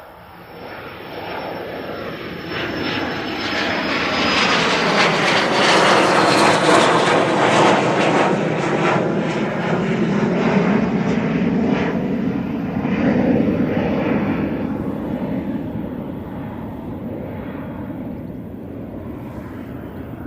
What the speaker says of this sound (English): Let's see if this bizjet does me rotten